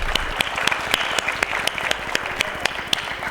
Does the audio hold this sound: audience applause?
yes